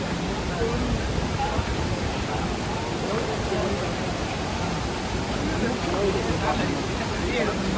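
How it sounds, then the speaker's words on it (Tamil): Spray from Aagaya Gangai falls splashes in a dense, loud, continuous broadband rush that holds steady throughout, with voices of people talking faintly underneath. "சாரல் அடிக்குது நல்ல அடிக்குது"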